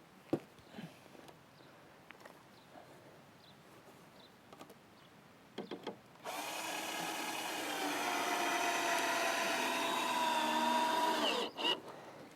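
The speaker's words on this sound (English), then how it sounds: "And then I'm going to drill into this one." After a few soft clicks and taps, a power drill whirs into wood for about five seconds while building a raised garden bed, its pitch rising slightly before stopping abruptly.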